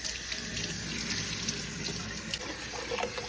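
Steady running water splashing in a sink, a continuous rush with faint knocks and swishes as potatoes are rinsed by hand.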